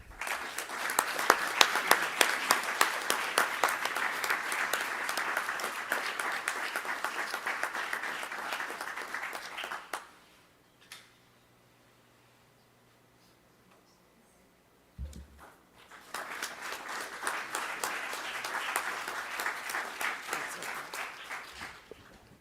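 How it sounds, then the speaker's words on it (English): Applause fills a board of education meeting room as the audience honors award recipients, a dense sustained ovation of many hands for about ten seconds, then a quiet gap, then a second long burst of clapping. "we're going to give you a round of applause"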